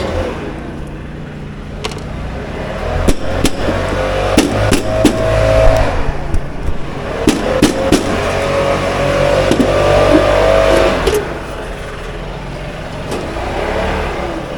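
Lawn care machinery with a small engine drones steadily outdoors, with scattered sharp clicks and knocks over the continuous mechanical hum.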